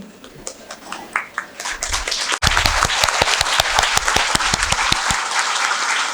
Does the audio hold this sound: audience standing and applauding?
yes